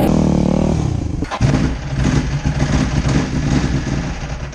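Engine of a 2002 Yamaha WR250F dirt bike running close by, loud and continuous, with a brief dip and blip around the one-second mark before settling into a steady rumbling idle.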